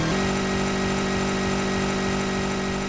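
An ATV engine from the video game ATV Rally holds a steady, loud synthetic drone with a fixed buzzing pitch that shifts once near the start, then stays even and alone throughout.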